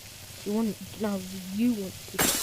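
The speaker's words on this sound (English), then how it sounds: "Put some raw beef in the pan again to make some steak" Raw beef sizzles in a pan in the game Yeeps, a soft steady frying hiss beneath a few chirpy, voice-like squeaks, ending in a sudden loud crackle.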